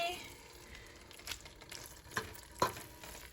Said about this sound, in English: that's the sound of a creamy Alfredo sauce